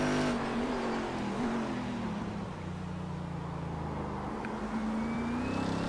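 Race cars battling in the iRacing sim at Motegi, a steady engine drone with shifting pitch as the cars run close together, continuous and moderately loud with no talk over it.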